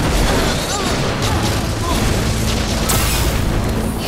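Cartoon laser attack with explosion from an animated car battle series: a dense, continuous blast of rumbling booms and bursts fills the whole stretch, loud and close, with a brighter burst near the end and voices mixed in.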